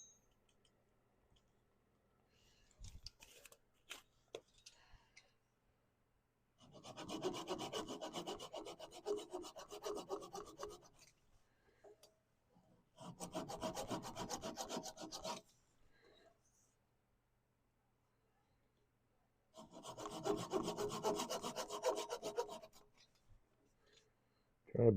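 Wood being cut away from the tenon on the bottom of a turned wooden bowl, in three sustained rasping, scraping bursts of a few seconds each, separated by quiet pauses and faint handling clicks.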